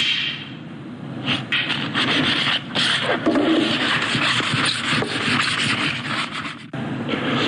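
Wood being sanded by hand for a basic wall shelf: a steady, close rasping rub of abrasive on timber, with continuous back-and-forth strokes and no talking.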